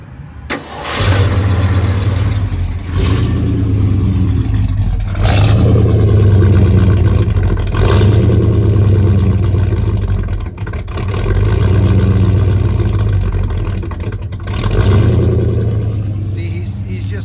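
A Ford FE V8 engine runs steadily at a loud, close idle with a deep low rumble, after being nursed along following a cold start. A few brief bumps break the roar, and no voices are heard.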